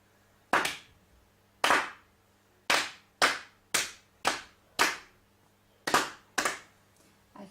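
Hands clap a rearranged rhythm in a beginner music lesson, ten crisp, close claps grouped in uneven clusters of short and longer gaps, with nothing else heard.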